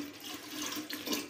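About one and a half glasses of plain water poured into a lassi mixture in a home kitchen, a steady close splashing, gurgling pour that swells toward the end.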